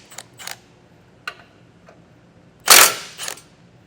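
A wrench loosens 15mm bolts on a Blue Ox base plate kit for a 2024 Chevrolet Silverado 1500, giving a few sharp metallic clicks, then one louder rasping burst and a final click, close up and sporadic.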